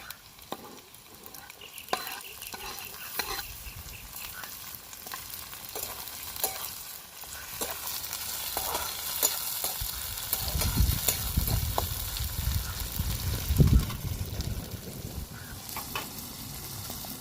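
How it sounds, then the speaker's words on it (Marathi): Onion, chilies and tomato fry in a pan, sizzling steadily, with scraping stirring and clinking utensil taps throughout and a louder, fuller crackle in the later part. "बघा कांदा टाकून घेतलाय मिरच्या टाकून घेते आणि टोमॅटो"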